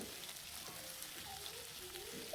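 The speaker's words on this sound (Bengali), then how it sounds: "এখানে আলুটা দিয়ে আমি দুই থেকে তিন মিনিট মতো ভাজি নেব এই তেলের সাথেই" Potatoes fry in oil with a faint, steady sizzle and soft crackle, heard close and alone over a short stretch.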